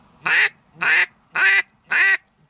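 Four evenly spaced quacks blown on a hand-held duck call bought for hunting teal and drakes, each a loud, nasal, harmonic burst with a slight downward inflection, close and alone.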